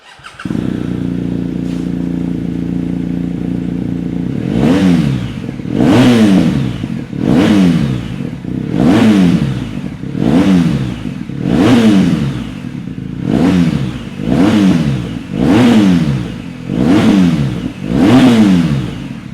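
A BMW R1250 GSA touring motorcycle fitted with a new aftermarket exhaust idles briefly, then revs repeatedly in a regular series of loud, close throttle blips, each rising and falling back.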